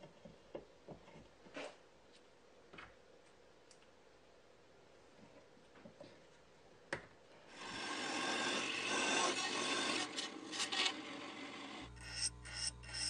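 Quiet scattered taps at first, then a loud sustained rasping cut as a blade grinds a bevel into a rubber wheel, ending in stuttering bursts.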